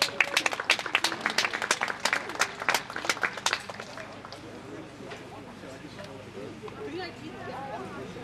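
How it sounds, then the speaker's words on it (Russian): Audience applause at an outdoor forest concert, a burst of loud, dense clapping that fades after a few seconds into softer scattered claps and crowd murmur. "под ваши бурные аплодисменты"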